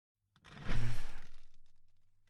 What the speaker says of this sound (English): he's pouring dirt over us right now